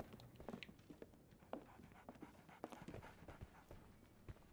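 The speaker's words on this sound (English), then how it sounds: "That's a dog. There's a dog in here." A dog pants faintly in the 2023 video game Sherlock Holmes: The Awakened, uneven quick breaths and snuffles at low level, somewhat distant, no voices.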